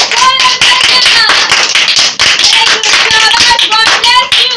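An audience at a kids' ministry Bible commandments competition applauds loudly for a young contestant. Dense, continuous clapping runs throughout while children's voices rise over it.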